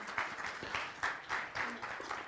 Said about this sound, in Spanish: la recibimos con un fuerte aplauso, por favor